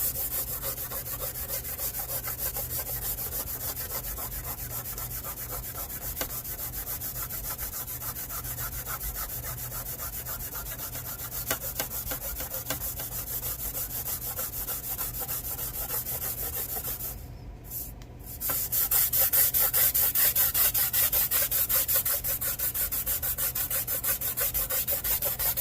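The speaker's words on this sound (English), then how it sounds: "We're just scuffing that surface back out and getting rid of the paint on that" Painted sheet metal being scuffed back to bare surface in bead-rolled metal art, a continuous close rasping and rubbing with a steady back-and-forth texture and one brief pause partway through, no talking.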